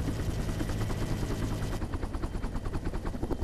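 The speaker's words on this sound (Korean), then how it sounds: "더욱이 헬기 소음 때문에 의사소통도 어렵다." Military helicopter engine and rotor noise inside the cabin during a climb, a loud, continuous throbbing roar with rapid rotor pulsing that fills the entire clip without any speech.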